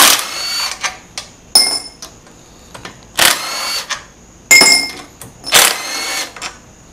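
A power tool whirs in short, loud bursts removing the crank cover bolts of a Predator 212 engine, stopping and starting several times, with clicks and clatter of metal parts between runs.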